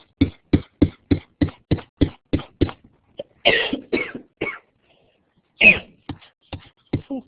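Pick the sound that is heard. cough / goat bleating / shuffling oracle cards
cough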